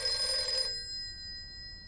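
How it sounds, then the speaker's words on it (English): A telephone bell rings briefly with a bright metallic trill, then cuts off, leaving a faint electronic hum behind. "2 o'clock in the morning, phone rang."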